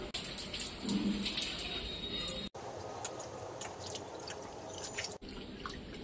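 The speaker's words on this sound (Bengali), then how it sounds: "ভালো করে এটা আমি পরিষ্কার করে ধুয়ে নিই" Running water streams steadily while burnt mankochu (giant taro) is washed under a tap. The flow is interrupted by a couple of short drips and handling squishes, and no one speaks.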